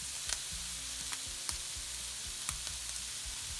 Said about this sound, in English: If we didn't have that heat in the pan, the steak would just start stewing.